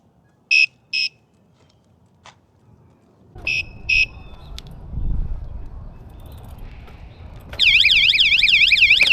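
Geevon anti-theft bike alarm: two pairs of short electronic beeps, then rumbling handling noise as the bike is moved, and finally a loud, continuous warbling siren.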